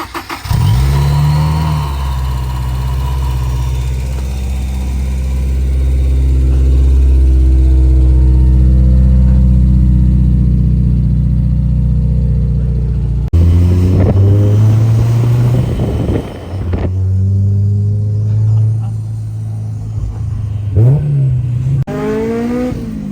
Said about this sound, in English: now we're gonna go drive it around because why not? So, give it a little start.